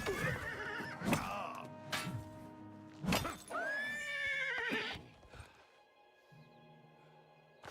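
A horse in the video game The Elder Scrolls: Oblivion Remastered lets out several loud, close whinnies, with hollow hoof clops and thuds in between and a quieter tail at the end.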